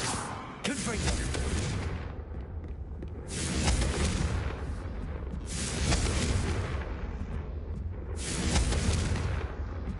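Explosive Confringo fire spell blasts in Hogwarts Legacy, several loud booming bursts roughly every two to three seconds over a dense rumbling combat background, with speech-like voices mixed in.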